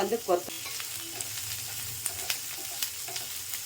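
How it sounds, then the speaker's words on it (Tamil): Onions, curry leaves and coriander sauté in a hot pan, a steady close sizzle with a few louder stirring scrapes near the start and faint clicks throughout. "கருவேப்பிலை, வெங்காயம், கருவேப்பிலை, கொத்தமல்லி போட்டு நல்லா வதக்கிடுங்க."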